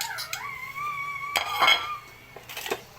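Plates and dishes being washed, scattered clinks and clatters of crockery up close, a sustained whistling tone running under part of it, with no talking.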